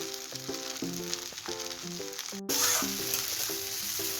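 Spicy egg Maggi noodles are stirred in a pan with Maggi masala and ground pepper, giving a steady sizzle with scraping spoon strokes under a strong musical tonal layer, getting louder halfway through.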